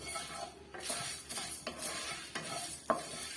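Chettinad chicken varuval ingredients are fried over a medium flame and stirred with a spoon, making close scraping strokes over a soft, continuous sizzle with no talking.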